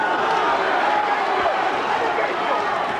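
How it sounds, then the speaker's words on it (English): A boxing arena crowd in a Nathan Sting versus Johnny Armour bout lets out a broad, steady roar of murmuring and cheering that fills the hall without clear peaks. "the crowd reacted to that Armour punch"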